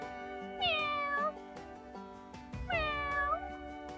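Farm cat named Feta meowing twice, close and clear, each a drawn-out, rising then falling cry with a short gap between, no talk over it.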